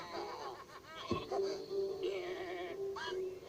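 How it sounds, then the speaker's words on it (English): Cartoon sheep bleat in an animated show, a few wavering, quavering bleats close up over a light soundtrack, with some chuckling voices mixed in. "those are some evil sheep."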